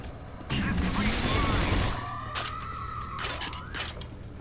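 A rocket launch and explosion in the video game Quake 4: a loud burst with a rumbling roar that trails off into ringing game effects, heard close and alone.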